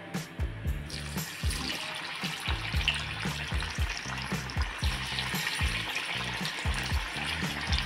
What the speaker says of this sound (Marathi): आता आपण याच्यामध्ये तळून घेणार आहोत.